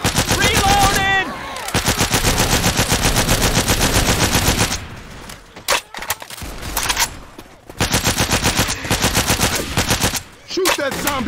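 Loud, sustained automatic gunfire rattles in the Left 4 Dead 2 zombie shooter during a custom Infected City 2 campaign, firing in long continuous bursts broken by brief pauses and a few single shots.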